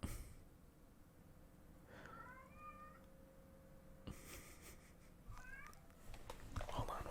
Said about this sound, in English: Cat's screaming.